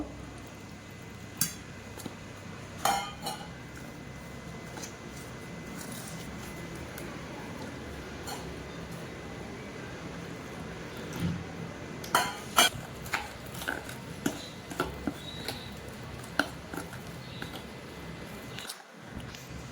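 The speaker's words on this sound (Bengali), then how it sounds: "এখন আমি এইভাবে একটু নাড়াচাড়া করে মিক্স করে নিচ্ছি।" Onion ring batter mixed in a bowl, with faint scraping and scattered small clinks of a utensil against the bowl that grow more frequent toward the end, quiet and near.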